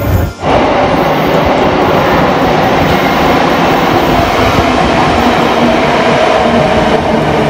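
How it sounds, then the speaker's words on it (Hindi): An underground metro train runs at speed after departing, a loud, dense, continuous rumble and roar heard from inside the car with a steady wheel drone throughout. "एंड अब आपको मैं अंडरग्राउंड स्पीड दिखाऊंगा कि ट्रेन कितनी स्पीड से चलती है अंडरग्राउंड में"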